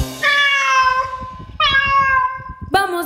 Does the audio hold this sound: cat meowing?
yes